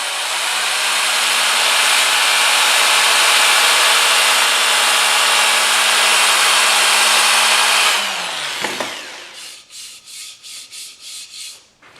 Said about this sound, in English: You can also use the power sander to generate rotation.